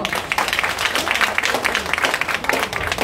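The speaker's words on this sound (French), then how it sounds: "que je demande d'applaudir très fort aussi" Applause from a crowd at a political meeting in Abobo, Côte d'Ivoire: a dense, loud, even patter of many hands clapping throughout, with no speech on top.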